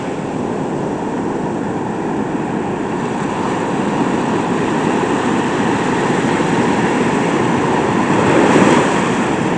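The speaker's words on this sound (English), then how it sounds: "Some pretty big waves out there." Big ocean waves crashing on the shore, heard as a constant heavy roar of surf with a slight swell toward the end, loud and unbroken with no voices.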